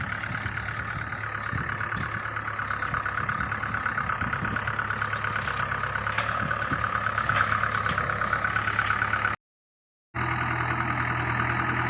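A tractor engine runs steadily and close by in a field, a continuous mid-pitched idle with a faint knocking pulse, cutting out briefly near the end before resuming.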